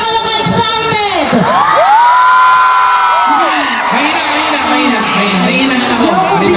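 A large concert crowd at a show at Global Village Dubai cheers, whoops and shouts loudly and without a break, the massed voices rising and falling in waves throughout.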